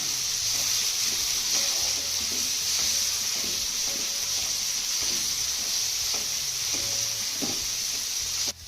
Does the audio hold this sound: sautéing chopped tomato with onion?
yes